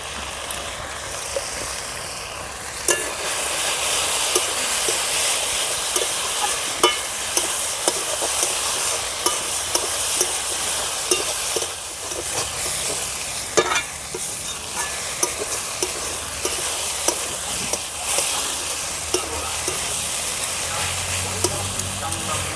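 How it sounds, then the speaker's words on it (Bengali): Fried prawns are stirred into banana flower ghonto in a pan, with a steady hissing sizzle and repeated scraping stir strokes that run throughout. "এবারে দিয়ে দেব বেজে রাখা চিংড়ি মাছগুলো"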